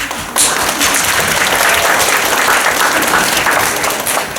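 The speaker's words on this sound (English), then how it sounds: "So round of applause for all of you." Loud, dense audience applause fills a theater, rising sharply after a brief quieter start and holding steady at full volume to the end.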